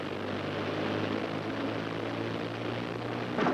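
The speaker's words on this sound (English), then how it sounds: "Running up to takeoff now." Several piston engines of a WW2 bomber run up for takeoff, a steady loud drone with a low propeller hum held throughout, swelling slightly at the very end.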